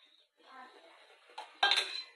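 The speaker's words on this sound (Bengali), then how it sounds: "তো এবার আমি বিট নুনটা মিশিয়ে দিলাম" Black salt mixed into amla chyawanprash with a metal spoon, soft scraping stirs followed by a louder clink and rattle of the spoon against the pot, close by.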